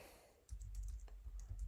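Typing on a computer keyboard, a short burst of several close, quick key clicks after a brief quiet moment, alone without talk.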